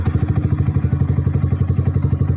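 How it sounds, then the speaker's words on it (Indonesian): A Yamaha R15 V3 motorcycle engine runs after starting, with a loud, close, steady rhythmic idle pulse and some mechanical clatter. "Nah, pas di starter juga nggak susah ya teman-teman."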